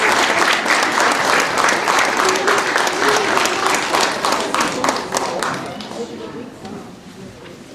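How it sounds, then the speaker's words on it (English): Loud audience applause for a students' living museum at a township board of education meeting, dense steady clapping that fades out over the last few seconds. "So can we have a big round of applause for our living museum?"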